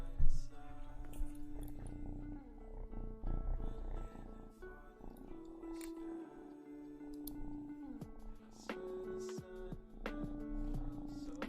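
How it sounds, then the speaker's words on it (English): A cat purring while held close to a microphone on a farm, a low continuous rumble that swells and eases steadily throughout, amid faint background household noise. "Can you guys hear his purr?"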